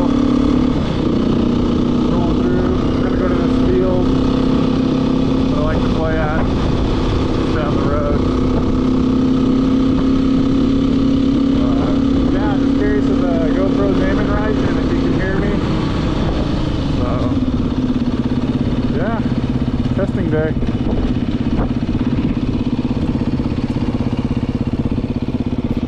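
A 2019 Beta 390 dirt bike engine hums steadily while riding, with revs rising and falling over low, constant wind noise and a voice talking at times.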